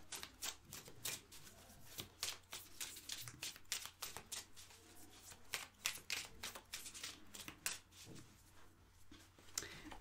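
Oracle cards being shuffled and drawn from a deck during a French-language card reading, giving a steady run of close, crisp papery riffles and flicks with no talking.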